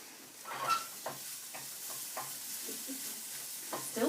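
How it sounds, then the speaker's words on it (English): Eggs fry in a pan in a greenhouse, a steady soft sizzle with occasional pops and faint scraping, quiet and close. "Still frying away"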